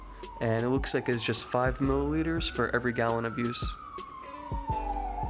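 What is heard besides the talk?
ambulance siren passing by in background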